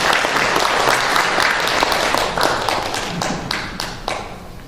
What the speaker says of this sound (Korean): 그러면 한 번 더 박수 한번 해주시면 감사하겠습니다